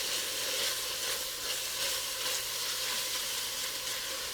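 Garlic sautés in a pan for stuffed shells, a soft, even, steady hiss of frying at a low level, continuous and close with no voices.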